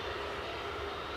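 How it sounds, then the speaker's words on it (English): A Boeing 757-200 jet airliner at Edinburgh airport, a steady broad engine roar heard from some distance, continuous and without voices. "there's the distinctive bird of prey-like profile of the Boeing 757-200"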